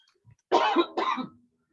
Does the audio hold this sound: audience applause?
no